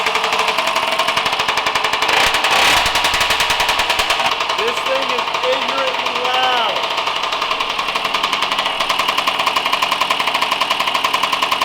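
A dirt bike engine runs very loudly up close, with a rapid, harsh, machine-gun-like exhaust rattle that holds steady the whole time and a brief higher revving whine partway through.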